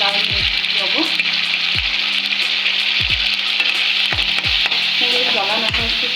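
Egg Maggi noodles with tomato sauce, salt and red chili being stirred in a pan: a steady close sizzle broken by a series of regular low scraping strokes of the spoon, about one every second or so, with no talking.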